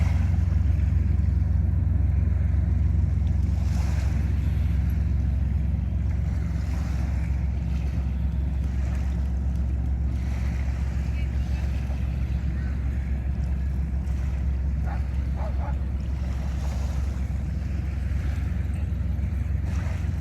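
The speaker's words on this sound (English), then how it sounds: "The ferries are kind of cool." Ferries move on the water at sunset beside a park, heard as a constant low rumble of engines and lapping water under steady wind buffeting the microphone, with no clear speech.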